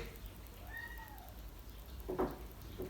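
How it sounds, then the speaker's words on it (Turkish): A cat named Aycık gives one soft, drawn-out meow with a rising and falling pitch, quiet against a low background hum, followed by a brief murmur of speech. "Aycık sen mi mi miyavlıyorsun yoksa kız kardeşin mi?"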